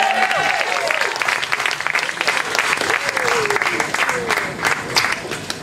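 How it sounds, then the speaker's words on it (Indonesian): Audience at a launching party with live music applauds a performer, dense clapping sustained throughout with a voice speaking over it. "Enda tepuk tangan."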